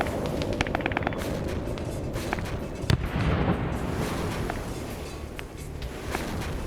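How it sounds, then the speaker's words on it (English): Anti-aircraft guns firing in a large multiplayer Vietnam War video game match, rapid bursts of distant popping shots over a steady rumble of battle, with one sharper nearby blast midway. "And you hear those AA guns firing."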